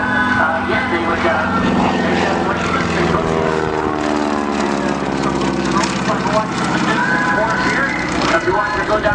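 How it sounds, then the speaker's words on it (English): A big Stearman biplane flying a display at an air show: a steady, loud propeller engine drone with a low rumble, its pitch shifting slightly as it passes along the show line, with crowd or commentary noise underneath. "just beautiful display of that big Stearman biplane"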